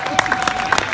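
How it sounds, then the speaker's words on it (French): An audience at a Sud Poste 92 union speech in Amiens gives a brief burst of scattered hand clapping, close and moderately loud, with voices mixed in. "il mérite d'être applaudi, le garçon."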